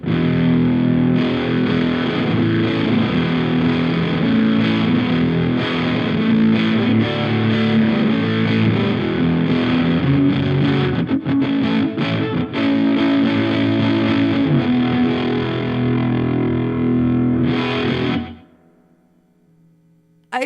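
A distorted electric guitar plays through a Supro Airwave with the thickness control turned up for a beefy tone. It is loud, dense and continuous, then cuts off and leaves a low hum near the end.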